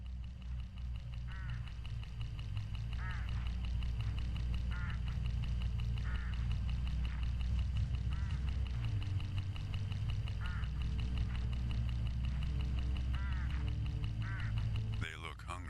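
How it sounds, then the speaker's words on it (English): Hooded crows give a run of harsh, evenly spaced caws along a road in the video game Hitchhiker, set over a steady low rumble of moving-vehicle ambience. "Look, hooded crows all along this road."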